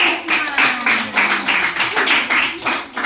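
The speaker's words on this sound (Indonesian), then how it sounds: "tepuk tangan" A classroom of children clap their hands in a patterned, rhythmic sequence of bursts, fairly loud and close, with a voice audible along with it.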